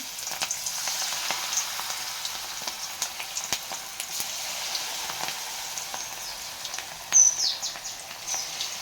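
Onion pakoras fry in hot oil with a steady soft crackle and hiss, small pops scattered throughout and a brief louder burst near the end, with a faint bird chirp in the background.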